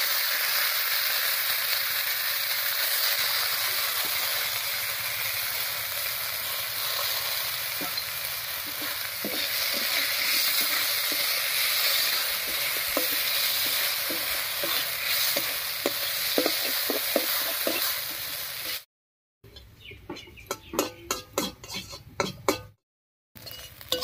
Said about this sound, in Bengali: এই তেলের মধ্যে গোবিন্দভোগ চালটা ভেজে নেব।